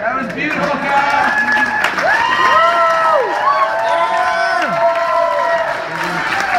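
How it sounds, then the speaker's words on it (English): Wedding guests clapping and cheering after a speech, a dense burst of applause with whoops and chatter, and voices calling out over the clapping. "I think we need a big round of applause again for Kyle's speech."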